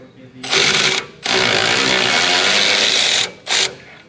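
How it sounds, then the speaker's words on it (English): A Milwaukee impact gun removing a brake bolt on a 2017 Dodge Ram R/T: loud, close rattling hammering in three bursts, a short one, a long sustained run, then a brief final burst. "Now, I'm gonna use my little Milwaukee gun."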